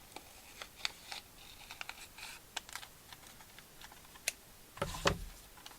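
Scissors cutting down the centre of paper for an envelope junk journal, heard as scattered crisp snips and ticks, close and fairly quiet, ending in a louder rustling burst, with no talking.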